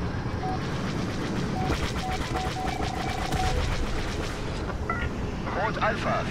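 Rapid bursts of video game gunfire crackle over busy background noise and a steady electronic tone, with people talking throughout, in the video game Star Wars Battlefront.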